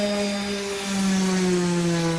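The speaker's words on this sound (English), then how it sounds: "We're sanding and taking the old polyurethane off." Hand sanding of old polyurethane off a wooden slab for a wine barrel table: steady abrasive droning with a sustained tonal whine that shifts slightly in pitch partway through, continuous and close, with no talking.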